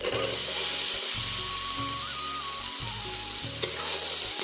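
Chickpeas tipped into masala frying in oil sizzle loudly and steadily, with a brief clatter near the end and a low rhythmic rumble beneath, no voices.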